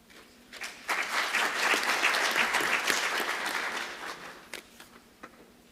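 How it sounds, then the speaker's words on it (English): A conference hall audience at the UNESCO Africa Engineering Conference applauds warmly, with steady dense clapping that swells and holds for several seconds before tapering off into a few scattered claps. "ladies and gentlemen, a round of applause"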